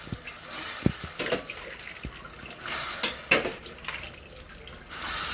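Water is poured into a pot of Filipino sopas soup on the stove, splashing and sloshing in short bursts with some stirring clatter, close and moderately loud, without talk.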